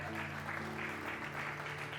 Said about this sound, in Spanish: Un aplauso también para Jacobo.